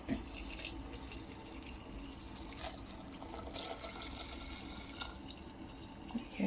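Hot water pours steadily from a kettle into a pot holding chicken and salt for Chinese chicken soup, a continuous close splashing fill with no talk.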